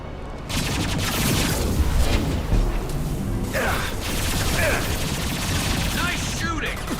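Rapid bursts of automatic gunfire and booming shots in a Mass Effect 2 firefight, loud and continuous, mixed with game action noise and a voice speaking over it.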